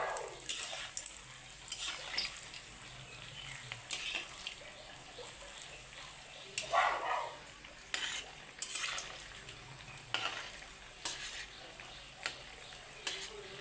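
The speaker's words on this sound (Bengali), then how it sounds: "এটাকে আমি লাল লাল করে ভেজে দেখাচ্ছি" Langcha sweets made with jaggery and milk frying in oil in a home kitchen, a steady soft sizzle broken by occasional stirring and scraping of a spoon against the pan, fairly quiet and close.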